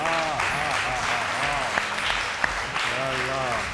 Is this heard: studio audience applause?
yes